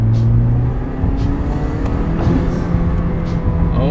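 A modified turbocharged car pulls away under partial throttle, its engine note loud and close, rising and climbing steadily over four seconds with a droning tone and light whooshing bursts.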